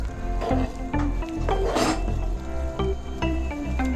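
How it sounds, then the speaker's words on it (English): Garlic and thyme being stirred in a cooking pot, a utensil scraping and knocking against the metal in a rough, repeated rhythm over a low background, close and fairly loud. "Give this a nice stir"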